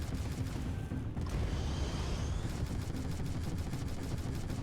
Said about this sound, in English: So the turrets shoot a little bit slower, as you can see